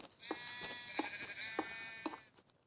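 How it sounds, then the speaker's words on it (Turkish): Sheep in the video game Minecraft Skyblock bleat in a quick run of four or five wavering calls, clear and fairly close, with no talk. "Aa koyun doğdu."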